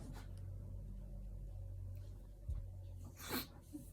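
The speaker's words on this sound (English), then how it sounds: "Sun makes me sneeze!" A single sneeze bursts out near the end of a quiet stretch of low background rumble, preceded by a brief thump; no talking.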